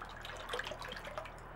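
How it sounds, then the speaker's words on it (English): Water running into a bowl being filled for setting tie-dye with a little table salt, a soft steady trickle and dripping heard close up. "fill your bowl up with as much water as you need"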